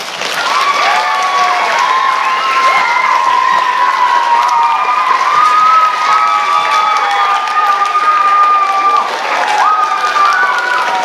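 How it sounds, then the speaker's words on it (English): A school audience at a Charlie and the Chocolate Factory launch gives a sustained round of applause mixed with cheering and children's shouts, loud and steady throughout. "let's give them one more respectful round of applause"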